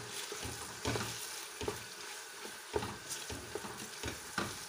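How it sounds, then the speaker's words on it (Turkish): Meat for a bean stew is sautéed in a pot, giving a soft continuous sizzle with scattered stirring knocks and scrapes, fairly quiet and close, no voices. "etimi koyuyorum. Bu şekil biraz kavuracağım."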